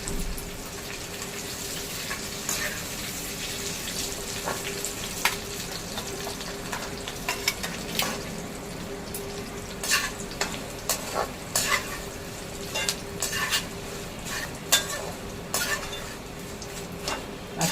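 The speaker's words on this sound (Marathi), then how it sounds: "चांगला तळून घेऊया खरपूस" Thin poha fries crisp in hot oil for Diwali chivda, giving a steady close sizzle with frequent light scraping and stirring clicks from a utensil and no talk.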